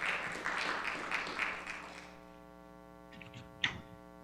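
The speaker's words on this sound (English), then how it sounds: "So please join me in applauding Robert and Bob Klein." A crowd applauds with dense clapping that fades out after about two seconds, leaving a steady electrical hum and a single knock.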